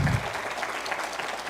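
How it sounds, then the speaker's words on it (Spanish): An audience applauds an architect at the close of a Spanish-language talk on construction project cost adjustment; brief, steady clapping from a room crowd, fairly soft, sustained through the moment without voices. "Un fuerte aplauso, por favor,"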